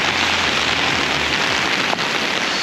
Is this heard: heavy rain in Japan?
yes